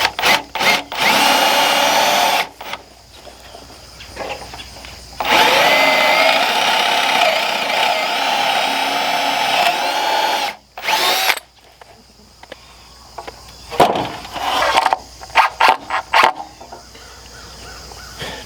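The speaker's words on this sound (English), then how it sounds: "drill these holes now while it's not all put together, because then the holes will be straight in" A power drill bores holes in boards for a 3/4 inch rod on a mobile chicken coop build. It gives several loud, sustained whirring bursts with short pauses between them, and a few crow caws sound in the background.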